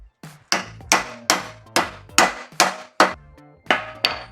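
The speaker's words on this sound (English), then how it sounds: "I'm gonna hammer that bit back in a little bit." Nine or ten sharp metallic hammer blows at a steady rhythm drive a wheel bearing back into the hub of a '96-02 Toyota 4Runner, each strike ringing briefly, close and loud with no talk.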